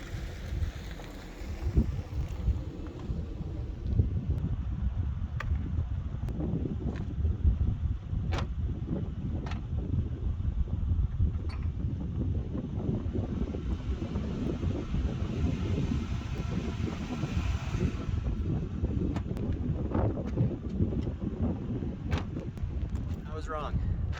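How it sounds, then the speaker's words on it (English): Wind blows steadily across an outdoor camping spot, a constant loud rush buffeting the microphone with gusty swells throughout. "The wind wasn't any better, so I might as well get a view."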